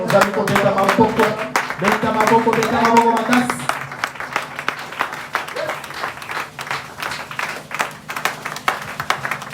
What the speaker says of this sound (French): Nous tous, on acclame très fort. On acclame.